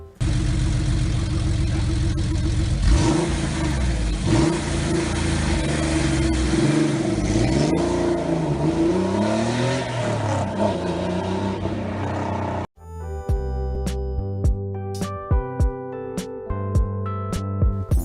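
A Porsche Boxster or Cayman flat-six boxer engine revs up and down in several rising and falling sweeps, loud and close, before cutting abruptly to music.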